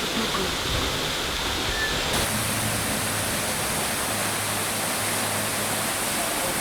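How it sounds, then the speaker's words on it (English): An artificial waterfall in Launceston, Tasmania roars as a dense, unbroken rush of falling water, loud and steady for the whole stretch with no voices. "It's hard to believe, but this magnificent waterfall is artificial."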